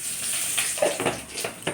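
Cumin seeds sizzle in hot oil in a kadai, a steady close frying hiss with a few brief crackles and no talk over it.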